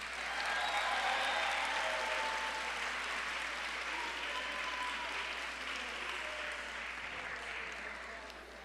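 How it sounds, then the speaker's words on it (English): A graduation audience at John J. Duggan Academy applauds the dignitaries, producing a loud, steady wash of clapping that holds for several seconds and eases slightly at the end, with some crowd murmur underneath. "Let's have a round of applause for our dignitaries."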